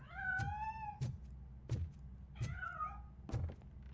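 A cat meows repeatedly in RoboCop Rogue City, two clear drawn-out mews between a regular series of dull thumps or knocks, fairly close and quiet, with no talking.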